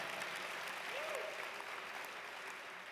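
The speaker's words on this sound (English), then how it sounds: "You can clap for that." Sustained audience applause from a live onstage conversation event, steady broadband clapping filling the whole stretch with a faint voice briefly audible underneath.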